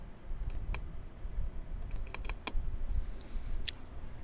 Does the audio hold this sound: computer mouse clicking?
yes